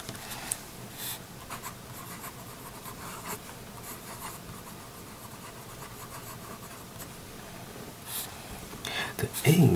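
Pelikan M800 fountain pen with an 18K medium nib ground to an italic scratches steadily across paper, a quiet continuous writing rub with a few brief louder strokes near the end.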